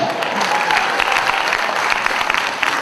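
A seated audience at a bank's platinum jubilee celebration breaks into lively applause, a close, dense patter of clapping with a few sharper individual claps standing out.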